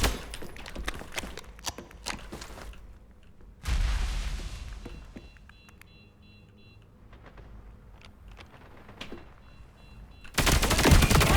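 Gunfire in the shooter video game FragPunk, rapid bursts of automatic fire followed by a lull with game beeps, then a loud burst of shooting and impacts at the end.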